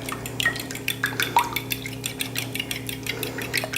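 A sauce being stirred with milk in a bowl gives close clinking and scraping of a utensil against the dish, with light liquid sloshing under it, continuous and fairly soft, with no talking.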